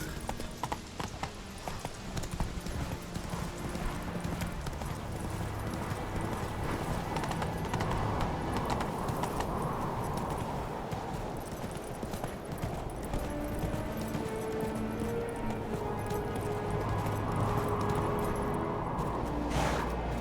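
Horse galloping in The Witcher 3 video game, with steady, rapid clip-clop hoofbeats running loud and close throughout, plus an occasional whinny over a continuous game background.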